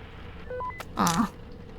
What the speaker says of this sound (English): Maybe I should call Henry.